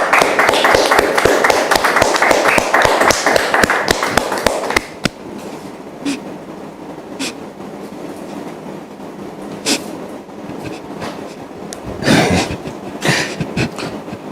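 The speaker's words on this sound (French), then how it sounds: "Et merci de le recevoir sous vos applaudissements" An audience applauds to welcome Monsieur Hervé Dabiré on the Point d'accord show: about five seconds of dense, loud clapping that cuts off abruptly, followed by quieter room sound with a few scattered bumps.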